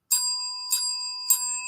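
Three bright bell dings ring out one after another at even intervals, each a clear metallic strike with a sustained ringing tone, loud and alone with no talking.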